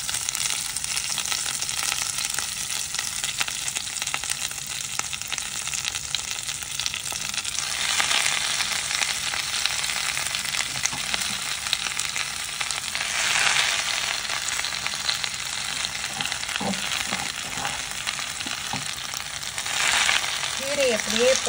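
Amaranth greens frying in a pan with cumin for a Chettinad greens and moong dal kootu, a steady close broadband sizzle running throughout, swelling briefly in a few spots, with faint stirring clatter near the end.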